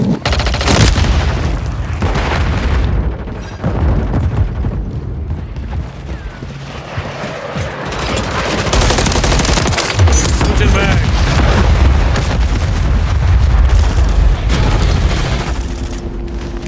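Grenade blast and heavy gunfire in Call of Duty Modern Warfare 3 online play, loud booms and dense bursts of shots layered over each other with voices calling out amid the chaos.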